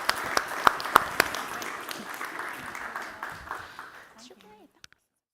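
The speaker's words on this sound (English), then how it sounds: "Can we have a round of applause?" A round of applause for a panel at a live-streamed event, moderately loud with a few sharp claps standing out, thinning and fading away after about four seconds.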